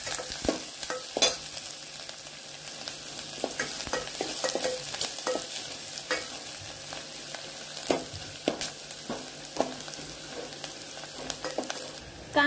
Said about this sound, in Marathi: मी 2-3 कांदे चिरून घेतलेले आहेत, ते या तेलामध्ये टाकलेले आहेत